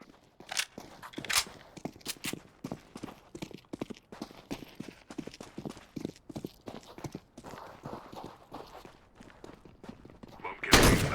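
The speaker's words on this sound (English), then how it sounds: "Oh, it's like a weird shotgun." Counter-Strike gameplay with the MAG-7 shotgun: a long run of steady, rhythmic footsteps, then one loud, close shotgun blast at the very end.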